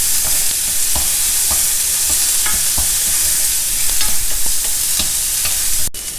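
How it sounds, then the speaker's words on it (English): Chopped onions sauté in a pan as part of a South Indian lunch, a bright continuous sizzle with the regular scrape and clack of a stirring spoon, loud and close. "Saute the onions for a few minutes."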